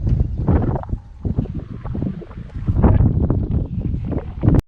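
Strong gusts of around 25 mph buffet a bass fishing boat on open water, roaring and fluttering against the microphone in uneven bursts that rise and fall.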